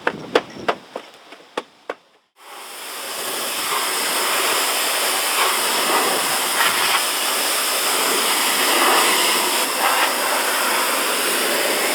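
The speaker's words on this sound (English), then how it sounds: "for the rear wheel wells that are carpeted, wheel liners in them, I use the pressure washer and let it go ham on them" Several sharp knocks come first. Then a pressure washer blasts a loud, continuous hissing spray into the carpeted rear wheel wells and wheel liners of a Honda Accord, pulsing slightly as the jet moves around.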